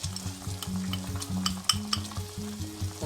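Crushed red chili flakes go into a pan of frying aloo bukhara, fig and apricot chutney and are stirred in. Steady close sizzling and scraping stir sounds run throughout, with no talking.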